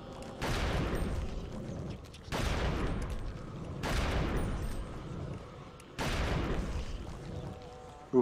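Rapid bursts of gunfire from a gun in the GameCube video game Eternal Darkness: Sanity's Requiem, four loud volleys each lasting about a second and a half, separated by short gaps, with a sharp click at the very end.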